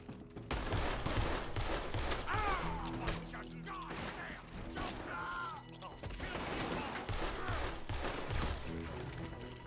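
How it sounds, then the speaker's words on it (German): Dense gunfire in the video game Red Dead Redemption 2, rapid overlapping shots forming a continuous fusillade over a busy game soundscape, with some faint voices mixed underneath. "Ja, das war ein nicer Schuss."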